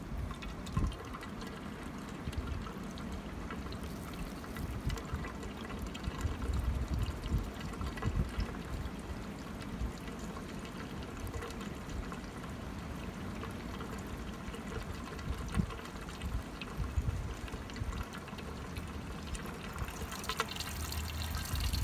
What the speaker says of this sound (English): filling that up all the way until you see it pouring out the bottom.